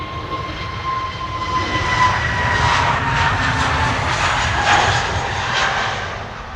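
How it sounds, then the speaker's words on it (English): A KLM Airbus A321neo jet airliner at Amsterdam Schiphol Airport roars with a loud, steady engine rush that swells and eases gently throughout, with no voices over it. "Over here we have one of KLM's A321 Neos, flight 1031 to Persenchester."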